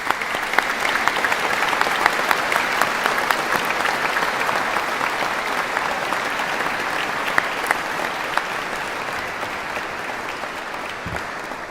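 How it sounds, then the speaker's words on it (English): Sustained applause from a large graduation ceremony congregation, a dense steady wash of clapping that holds evenly for about twelve seconds with no voices over it. "Could I invite the graduates to give them a round of applause?"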